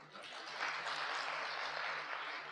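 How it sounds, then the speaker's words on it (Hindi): An audience bursts into sustained applause at a talk, a dense wash of many hands clapping that rises quickly and holds steady for a couple of seconds. "अब तो आपको अपने लिए पक्का ताली बजानी पड़ेगी।"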